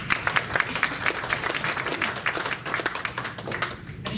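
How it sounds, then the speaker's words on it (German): Dense audience applause at a hypnosis and NLP congress, steady and fairly loud throughout, with many overlapping claps and no clear talk. "Applaus für die Dame"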